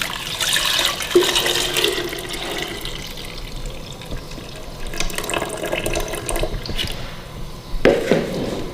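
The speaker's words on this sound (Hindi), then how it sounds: "हम जग के अंदर दोबारा से इसको डालेंगे आपके सामने" Strained tamarind and plum sharbat being poured back into a jug, a continuous splashing liquid pour with gurgling and dripping, close and fairly loud throughout, no talking.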